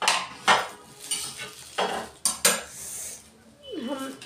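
Metal pots, pans and utensils in a home kitchen clatter and clank in several sharp bursts, with a brief sliding scrape near the end.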